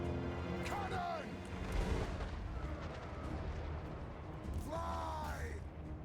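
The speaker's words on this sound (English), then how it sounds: "Cannon!" Cannon fire in a Total War strategy game, deep booming artillery blasts rolling under a steady wash of battle noise, with shouted voices breaking in over the din.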